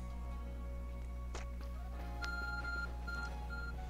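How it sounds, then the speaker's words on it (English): A handheld ARC phone in the Pokemon Legends: Arceus video game beeps in short electronic tones, several steady pitched bleeps repeating over quiet game background sound, with no talking. "Your ARC phone is beeping."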